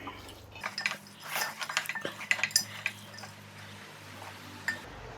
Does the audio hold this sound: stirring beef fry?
yes